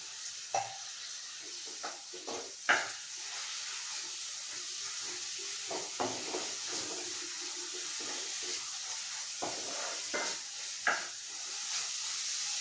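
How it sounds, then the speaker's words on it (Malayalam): Onions sizzle and sauté in a hot pan with salt for a rava chicken biryani, a steady close frying hiss broken by occasional stirring scrapes and clicks, with no talking. "ഇതിലേക്ക് കുറച്ച് ഉപ്പ് ഒഴിച്ചു കൊടുക്കാം ഇപ്പോൾ സവോള വേഗം ഒന്ന് വഴണ്ട് വരും"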